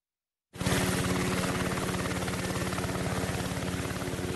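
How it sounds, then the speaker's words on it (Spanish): A helicopter flies close by, starting abruptly and then holding a loud, steady rotor chop with a rapid even thumping pulse under a broad engine roar. "el helicóptero parece que hoy viene con fuerza"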